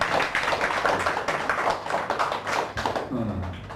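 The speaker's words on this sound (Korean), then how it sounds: "우리 박수로 또 환영하도록 하겠습니다" A church audience claps together in sustained, fairly loud applause to welcome someone back, the clapping fading toward the end.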